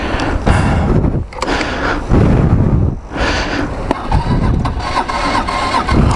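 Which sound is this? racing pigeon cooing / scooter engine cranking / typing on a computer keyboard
scooter engine cranking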